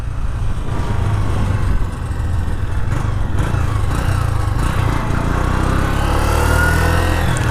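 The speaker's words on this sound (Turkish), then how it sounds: "Buradan şöyle bir gazlayalım inceden." A Honda 125 ES motorcycle engine drones loud and close without a break, a steady buzzing roar while the rider gives it throttle on a road. No one talks.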